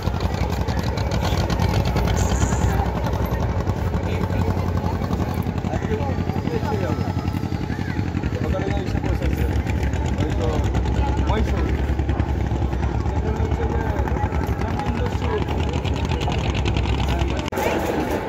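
Steady engine drone of a motor boat crossing the Ganges from Nabadwip ghat toward Mayapur, continuous and close throughout, with people talking over it.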